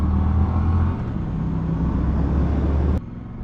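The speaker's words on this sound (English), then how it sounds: "literally any gear and just nail the throttle and it takes off" A 2021 Triumph Bonneville T100 motorcycle under full throttle, a steady, loud low engine drone with exhaust rumble, heard from on board for a few seconds before the tone drops abruptly near the end.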